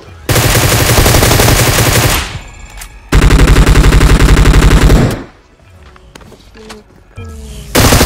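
Automatic gunfire in Battlegrounds Mobile India rips out in two long, loud, rapid bursts close by, followed by quieter scattered single shots and a final short burst.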